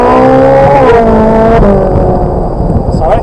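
A Ferrari 458 accelerates hard on a race track, its engine note rising in loud sustained harmonics before a gear change near the middle, with a driving instructor's voice speaking over it.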